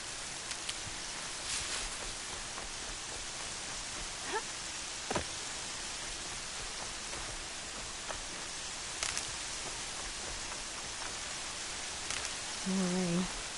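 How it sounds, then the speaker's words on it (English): Steady rain pours through a game world in Horizon Zero Dawn, a broad hissing wash that runs the whole time with a few faint ticks, and a short tonal blip near the end. "More rain."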